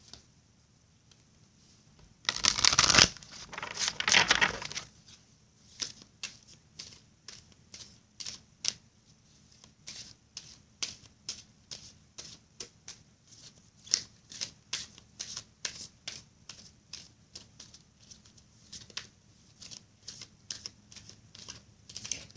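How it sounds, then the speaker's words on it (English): Oracle cards from the Divine Circus Oracle deck being shuffled by hand, with a loud riffling burst near the start followed by a long run of light, rapid card taps and flicks. "Now let me shuffle the Divine Circus Oracle deck."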